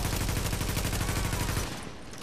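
Shotgun blasts in The Division's Dark Zone fire as a loud, rapid volley of booming shots, then cut off abruptly near the end, leaving a quieter tail.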